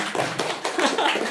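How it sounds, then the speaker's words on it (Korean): An audience at a live public broadcast recording claps in a brief burst of a few rhythmic, fairly close hand claps, with faint room murmur behind them. "요즘에 박수를 또 쳐준다"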